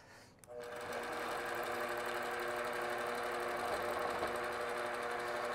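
A longarm quilting machine starts up and runs steadily in free motion mode, off stitch regulation, sewing a continuous curve with a fast, even mechanical whir and rapid needle chatter, close and constant.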